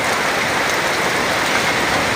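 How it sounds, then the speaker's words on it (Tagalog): Heavy rain pouring steadily as a dense, loud, even hiss with no pauses or voices. "Inabot na naman ng malakas na ulan"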